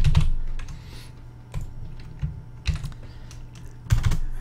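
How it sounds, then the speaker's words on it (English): Rapid clicks of a computer keyboard as someone types a word, several clustered bursts of close, crisp keystrokes with short pauses, no voices. "So in here we could type in boost."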